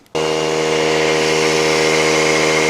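A Harbor Freight McGraw 3-gallon oil-free air compressor starts abruptly after a brief quiet moment, then runs at a steady, loud, close drone with a strong motor hum and no voices.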